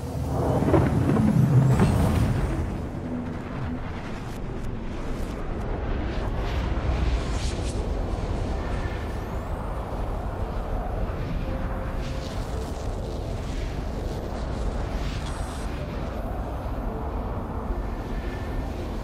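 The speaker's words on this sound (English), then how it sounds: "Quantum drive is now on." A spacecraft's quantum drive spins up in Star Citizen: a heavy, roaring rush swells loudest in the first couple of seconds, then settles into a long, sustained, hissing rumble with faint tonal whines.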